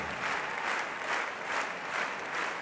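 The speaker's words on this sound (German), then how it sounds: "Der Applaus erhöht sich" Distant applause from spectators at a show jumping Nations Cup competition at CHIO Aachen. The clapping is faint and continuous, with a gentle swell and fall in waves across the crowd.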